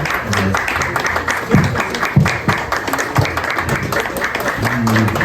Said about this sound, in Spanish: Pero un aplauso, por favor, para Fer